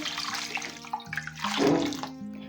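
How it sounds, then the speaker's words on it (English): Water poured from close by into a cooking pot holding a washed goat head, a continuous splashing gush that swells midway and then settles. "I added enough water."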